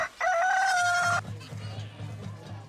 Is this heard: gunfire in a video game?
no